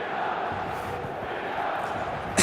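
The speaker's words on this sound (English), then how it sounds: "The stadium is full of noise and energy." Stadium crowd noise from an eFootball video game match forms a continuous, dense roar of many distant voices. It stays steady throughout and swells briefly at the very end.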